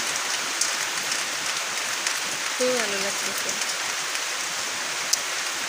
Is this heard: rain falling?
yes